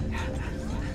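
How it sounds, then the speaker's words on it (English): Heavy, breathy panting from a character in the Halo: Reach video game, a short continuous huffing burst with a doglike quality, loud and close. "Just heard you panting there."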